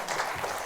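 Brief burst of audience applause at a developer conference for the game Hytale, a steady wash of many hands clapping at moderate distance, with no talk.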